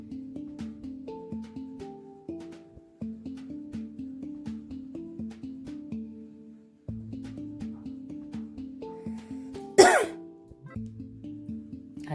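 One sharp, loud cough breaks out indoors at a village house, standing out against a steady, repeating melodic background tune.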